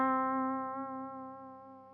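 A single sustained clean electric guitar note played straight through the amp with no compression, ringing with rich harmonics and slowly decaying in loudness over two seconds.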